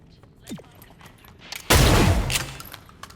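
Weapon fire in XCOM Chimera Squad: a few faint clicks and shots, then one loud sudden burst of gunfire that rings on for about half a second before dying away.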